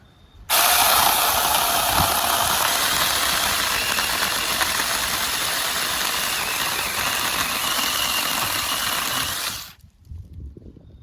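A Saker cordless 4-inch mini chainsaw making a relief cut, whirring loudly and steadily for about nine seconds up close, starting and stopping abruptly, with no talking.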